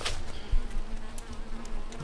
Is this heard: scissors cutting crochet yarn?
no